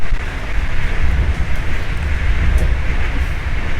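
A train ride in Austria heard from inside the carriage, with a smooth, steady low rumble and airy rushing noise throughout and no distinct clicks.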